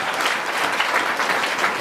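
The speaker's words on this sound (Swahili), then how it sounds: "Piga Yesu makofi ya imani katika jina la Yesu." A church congregation claps in a dense, steady burst of applause, close and fairly loud, with no talk over it.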